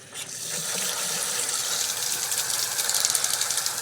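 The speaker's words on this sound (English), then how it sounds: "So now we're going to go ahead and turn the water on." Water running steadily from a just-repaired kitchen-style faucet, a continuous splashing hiss into the sink that holds even and close throughout, with no voices.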